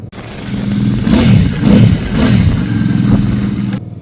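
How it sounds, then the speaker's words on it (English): A Benda Napoleon 450 V-twin motorcycle engine revs loudly up close, its throttle blipped in several surges over a steady low rumble before it drops back toward idle. "Let's rev it up."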